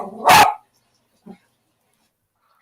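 A dog gives one sharp, loud bark close by, followed by a faint short yip about a second later, with near silence around them.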